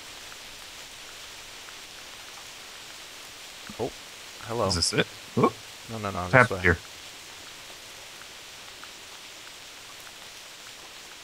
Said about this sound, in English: Can this rain stop, please?